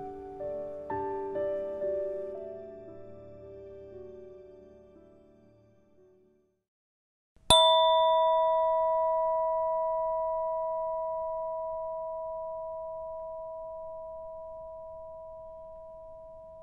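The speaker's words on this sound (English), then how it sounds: "Pay attention to the sound of the bell ringing." A mindfulness bell is struck once after a low, fading murmur and a moment of silence, giving a clear metallic ring whose steady tone slowly decays over about nine seconds, heard alone.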